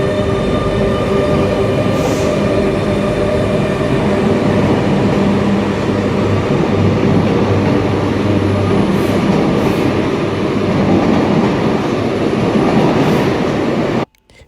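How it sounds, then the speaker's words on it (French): RER E commuter train running with its traction chain whine, a continuous loud rumble of wheels and motors inside the carriage, steady for over fourteen seconds before cutting off. "Tu vois, toujours un peu plus silencieux celui du RER."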